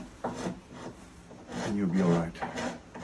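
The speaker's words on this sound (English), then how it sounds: "Hold your file nice and flat against your worktop and dig into" Worktop edging strip filed with a hand file, its rough rasping strokes rising and falling in close, moderate bursts while someone talks over them.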